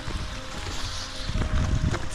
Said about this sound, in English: Man, look at that stream.